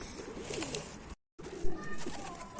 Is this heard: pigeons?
yes